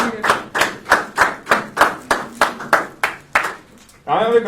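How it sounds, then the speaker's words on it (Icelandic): About a dozen evenly spaced, resonant claps ring out in a steady rhythm at an awards ceremony for 2020 championship titles, close and distinct, before a voice begins speaking at the end. "gefum honum gott klapp"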